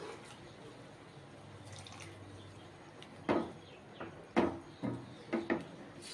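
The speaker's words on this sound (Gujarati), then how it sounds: "થોડુંક પાણી ઉમેરીશું" Faint kitchen background, then a few short splashes and drips as water is poured into a pan of spiced curd and Kashmiri chilli masala for soya chunk curry, in small bursts near the end.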